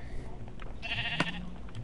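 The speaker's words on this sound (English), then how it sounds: "I'm gonna kill the sheep so I can get a bed" In a Minecraft-style survival video game, a sheep gives a single drawn-out bleat in the middle of a faint, quiet background.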